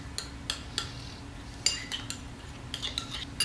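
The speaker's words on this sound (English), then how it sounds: "Now just give this a stir." Spoon stirring Mexican pizza sauce in a bowl, several scattered metallic clinks and scrapes of cutlery against the dish at close range.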